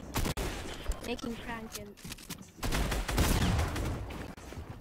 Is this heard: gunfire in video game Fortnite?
yes